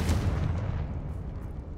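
A Confringo spell blast in Hogwarts Legacy lands as a single heavy booming explosion that decays into a rumbling tail, loud and close.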